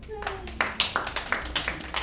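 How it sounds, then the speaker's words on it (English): Conference audience at a campus community session clapping for themselves, a short burst of distinct, fairly close hand claps with uneven rhythm, some voices mixed in. "give yourselves a round of applause."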